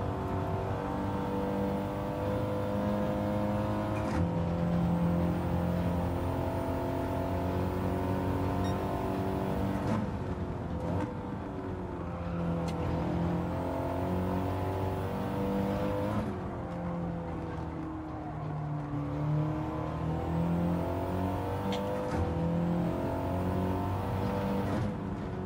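A Porsche race car on hard tyres in Gran Turismo 7 drones steadily at high revs, engine pitch rising and dropping through repeated gear shifts and corners, loud and continuous with no talking.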